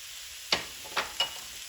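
Pumpkin cooking with spices and crushed black pepper in a pan for a Kerala mezhukkupuratti stir-fry: three short, crisp scraping stirs at steady intervals over a faint, low sizzle.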